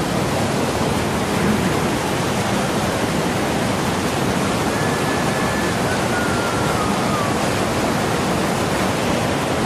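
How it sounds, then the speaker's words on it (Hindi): River water rushing steadily at a village stream with water-powered mills, a dense, constant broadband wash with no breaks, close and fairly loud throughout. "ये देखें पानी पानी नदी में पानी पानी हो गया है"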